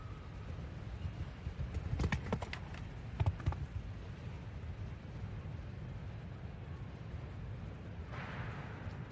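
Horse hooves at a show jumping grand prix jump-off in Geneva, a few distinct thuds and clatters around the approach to a large oxer fence, heard at a distance over steady arena crowd ambience.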